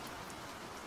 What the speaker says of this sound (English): Outside, rain tapped a steady, rhythmic cadence against the glass